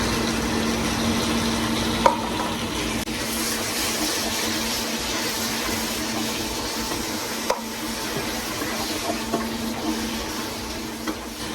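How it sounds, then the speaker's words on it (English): Diced onion frying with ground meat in a pot, a steady soft sizzle with a few faint clinks of a utensil against the pot. "I'm going to add a diced onion to our meat"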